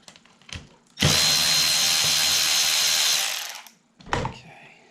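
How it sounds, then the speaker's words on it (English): An electric ratchet whirs steadily for about two seconds while removing bolts from a push mower, loud and close, with brief clicks and handling noise before and after. "Now I'm using my electric ratchet."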